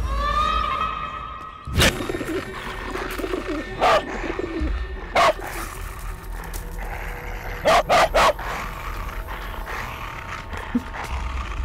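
A dog barks in several sharp bursts amid a busy outdoor scene with birds chirping and cooing, the barks coming in short clusters over a steady background.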